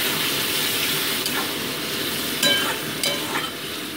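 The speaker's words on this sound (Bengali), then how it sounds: "এবার আমি মশলা পেস্টটা দিয়ে দিচ্ছি, আর দিয়ে দিচ্ছি কেটে রাখা টমেটো কুচিগুলো দিয়ে মোটামুটি কিছু হালকা কষিয়ে দিচ্ছি আমি" Spice paste and chopped tomatoes sauté in a pan with fried potatoes and onion. A steady sizzle runs beneath a few sharp scraping stirs.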